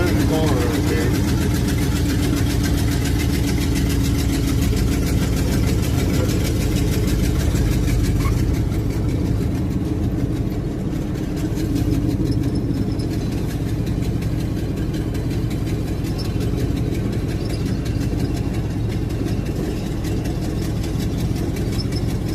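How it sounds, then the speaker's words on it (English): A car engine idles nearby outdoors, a steady low rumble that runs unbroken and fairly loud throughout, with no pauses or revving. "There's a car up here."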